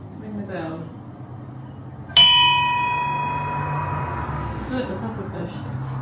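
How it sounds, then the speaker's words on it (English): A small bell struck once in a campervan setting, a sharp bright ding that rings on with a long fading tone, preceded by quiet talk and followed by faint voices. "Ring the bell."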